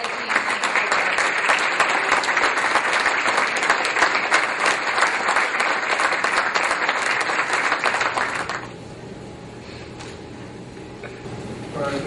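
An audience at a UMass Dartmouth alumni awards ceremony gives sustained, loud applause for a 2013 Alumni Association Achievement honoree. The clapping fills the room for about eight seconds, then drops to a quieter hall.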